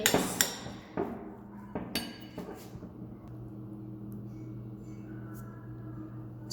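A spoon stirs an egg and tomato mixture in a bowl, giving a few sharp clinks and knocks in the first two seconds before fading into a steady low kitchen hum.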